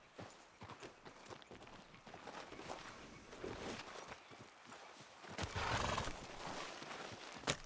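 Horse hooves clip-clop at a walking rhythm in the Red Dead Redemption 2 video game, with a neigh rising near the end; the whole scene stays quiet and fairly close.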